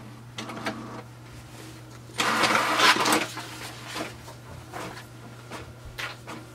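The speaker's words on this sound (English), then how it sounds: "So here we can see it has copied and started to print." HP Deskjet 3776 all-in-one printer copying and printing a page, with a low steady mechanical hum, scattered clicks and whirs, and a louder burst of paper-feed motor noise partway through before settling back to quieter clatter.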